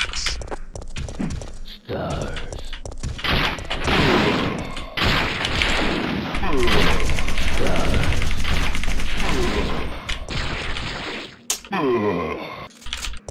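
Rapid gunfire rattles through a Resident Evil 3 fight against Nemesis, a dense, loud stream of shots and impacts with short gaps and shifts in intensity. Game voices and groans mix in.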